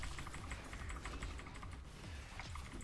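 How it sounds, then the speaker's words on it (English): Rapid, steady clicking on a computer keyboard and mouse during a League of Legends match, close and continuous over a dense bed of game sound, with no talk. "You can just hear me clicking away."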